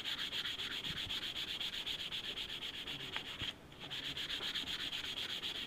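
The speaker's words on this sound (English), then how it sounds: "So I'm trying to get the sandpaper on the entire wing" Rhythmic sandpaper scraping across a wooden glider wing, quick back-and-forth strokes close up, with one short pause before the sanding resumes.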